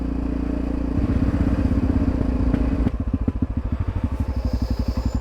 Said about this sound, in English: Nice to be on a motorcycle, because I will just pass.